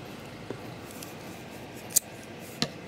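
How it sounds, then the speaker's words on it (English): Scissors cutting yarn while crocheting a granny triangle cardigan, heard as a few sharp, quiet snips spaced apart over soft background hush. "You're gonna grab your scissors and you're going to cut off."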